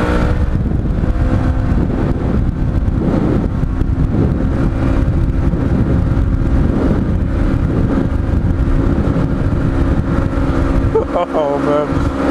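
A Polaris RZR XP 1000 side-by-side drifts on forest tracks, its engine droning loudly and steadily with gritty rumble and wind buffeting throughout, a brief dip near the end.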